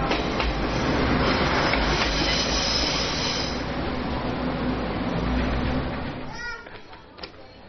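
A train at Shifen station in Taiwan rumbles past close by with sustained wheel squeal and rolling clatter, loud and steady for several seconds before fading away, leaving quieter ambience.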